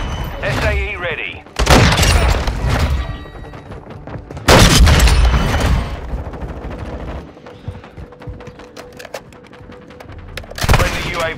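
A cruise missile launch and explosion in Modern Warfare 2, with heavy booming blasts and rumbling roars in several loud surges, gunfire crackling between them.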